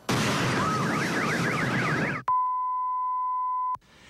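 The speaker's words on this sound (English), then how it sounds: "car alarms blaring." A wailing car alarm set off by a meteor shockwave warbles loudly over a roar of noise, then cuts to a steady high electronic tone that holds for over a second before stopping.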